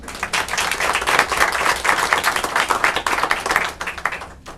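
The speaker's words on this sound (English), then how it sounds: "So round of applause" Loud, dense applause from an audience at a school board of education meeting, honoring a $500 prize winner, a steady wash of many hands clapping for several seconds with no talk over it.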